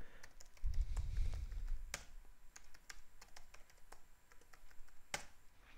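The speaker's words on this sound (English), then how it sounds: "now let me type the new password" A new password is typed on a computer keyboard in an Ubuntu Linux terminal: scattered, quiet key clicks with uneven spacing, a couple of sharper taps and a low thump near the start.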